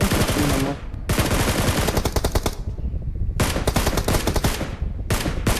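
Loud, rapid bursts of machine-gun fire in PUBG Mobile, in several long volleys separated by short pauses, close and harsh with no voices.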